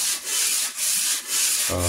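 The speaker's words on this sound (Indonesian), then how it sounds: "kita amplas menggunakan amplas yang panjang dengan tatakan atau alas" A Daihatsu Xenia exhaust header flange is sanded flat with long sandpaper laid on a ceramic tile. It makes steady, loud, close rasping strokes in a regular back-and-forth rhythm, with a brief tonal sound at the end.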